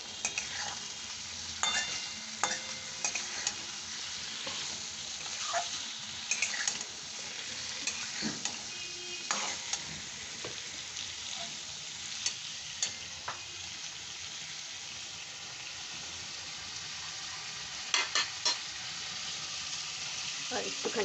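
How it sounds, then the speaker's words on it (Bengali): Ginger, garlic, turmeric, chilli powder and green chillies sautéing in oil for a fish roe kofta curry, a steady sizzle with repeated scraping stirs and occasional utensil clicks, no voices. "এই দিয়ে আমি একবারে কষে নিচ্ছি।"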